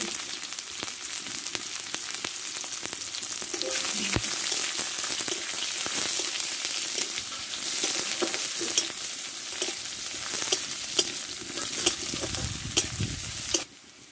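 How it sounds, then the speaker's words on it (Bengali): Thickly cut onion fries in hot oil with bay leaf, cumin and dried chili, a steady loud sizzle with frequent stirring scrapes that stops abruptly at the end. "এখানে মোটা সাইজে একটা পেঁয়াজ আমি কেটে রেখেছিলাম, এটা ভালো করে ভেজে নেব"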